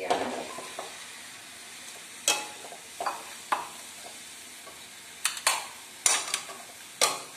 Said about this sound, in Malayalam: അതിനുശേഷം അരപ്പ് ശരിക്കും പിടിക്കുന്നതോടെ വരെ നമ്മൾ ഇത് ഇളക്കണം.